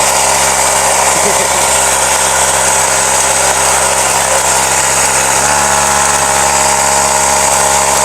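A pocket bike's small, high-pitched engine runs loudly and steadily nearby, buzzing at a constant idle with a slight pitch shift midway.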